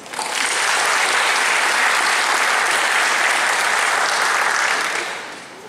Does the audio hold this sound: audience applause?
yes